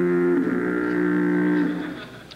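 A foghorn sound effect from a lighthouse-at-sea comedy sketch: one long, loud, steady low horn blast with rich harmonics, holding for about two seconds before fading slightly.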